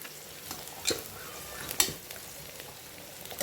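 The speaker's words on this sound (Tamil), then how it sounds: "இப்போ வெங்காயம் வதங்கிட்டு இருக்குது." Onions sauté in a pan while being stirred, a soft sizzle running under a few scraping clicks of the spoon, quiet and close, with no talking.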